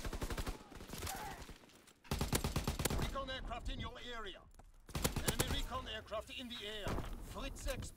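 Rapid automatic gunfire in Call of Duty WW2 on the Ardennes Forest Hardpoint map, long bursts of shots with brief pauses between, under a player's frequent talking.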